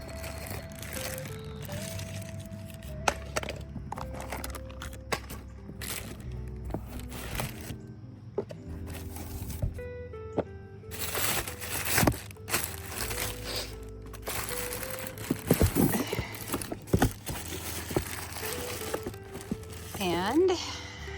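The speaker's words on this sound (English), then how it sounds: "removing all of the packaging." Crinkling and crunching of plastic packaging being torn and pulled off a Vego Garden retractable hose, irregular and close, with scattered knocks and rustles throughout.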